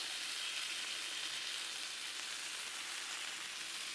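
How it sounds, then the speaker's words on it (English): Steak edges and fat caps sear on a Blackstone griddle, giving a continuous, even sizzling hiss with no pauses or voices. "You just get a good sear all around them edges and fat caps and everything else."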